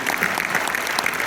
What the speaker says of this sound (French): je vais vous inviter à applaudir Jean-Baptiste et Pierre